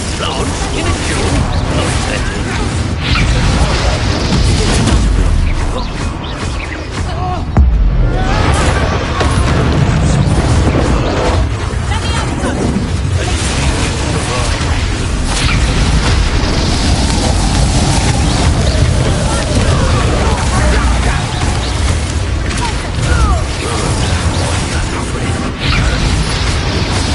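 Blasting spell exploding in a fantasy action game, heavy booming bursts within a dense, continuous wash of loud combat noise and music, with a voice speaking over it.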